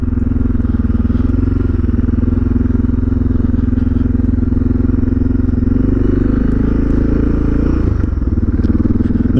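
A Suzuki DR650 motorcycle fitted with an FMF exhaust rides along with a steady, loud low engine drone that holds nearly constant throughout, shifting slightly near the end, with faint clatter over the rumble.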